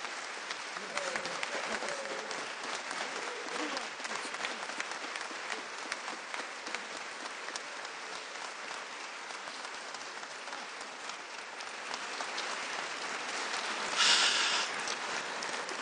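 Sustained audience applause at an outdoor Veterans Day ceremony honoring the Phoenix Veterans Day Parade, a steady wash of many hands clapping at a distance, with a brief louder burst near the end.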